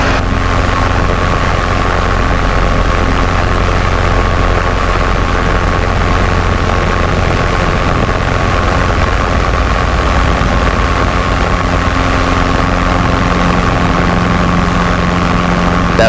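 A Robinson R22 helicopter's engine and rotor drone loudly and steadily in flight, a constant close-up cabin roar with a low buzzing hum throughout and no talk.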